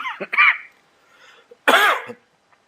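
Two harsh coughs close to the listener, separated by a short pause, each a throaty burst.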